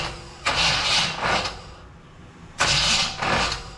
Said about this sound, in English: That starter sounds terrible.